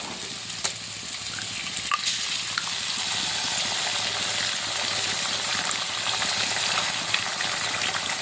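An egg cracked into hot oil in a pan of fried vegetables for street-style chow mein, a steady close sizzle with soft crackling throughout and a few light clinks of a utensil.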